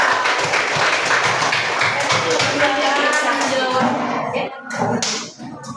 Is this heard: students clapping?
yes